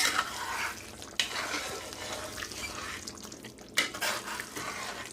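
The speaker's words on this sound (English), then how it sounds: "Okay, this is going to be the last stir." Chicken and squash in a creamy sauce get a final stir in a pot: wet, bubbling simmer with three sharp scrapes or knocks of a utensil against the pan, up close and without talk.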